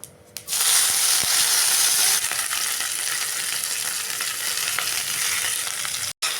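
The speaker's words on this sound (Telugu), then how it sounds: "ఇప్పుడు ఇవి ఉల్లిపాయలు పచ్చిమిర్చి లైట్గా వేగాలి" Chopped onions, green chillies, ginger, garlic and curry leaves fry in hot oil with cumin for veg Manchurian, a loud steady crackling sizzle that starts abruptly and runs on, with a few brief scrapes of stirring.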